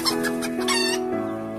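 A hen clucking loudly nearby, a quick run of clucks rising into a drawn-out squawk.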